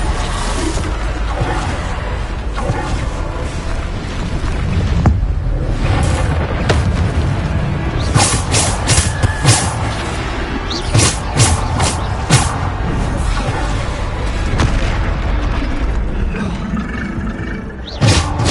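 Bombarda and Depulso spell blasts in the Hogwarts Legacy video game: heavy, booming impacts and rumbling roars fire off again and again in rapid combat succession, loud and dense over a continuous low rumble.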